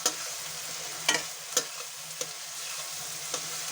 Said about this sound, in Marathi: अद्रक लसूणची पेस्ट परतून घ्यायची.